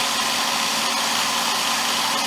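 A cordless drill whirs steadily and continuously at close range, spinning a wire-stem stick fishing float for sanding, a constant high-pitched motor spin with no pauses.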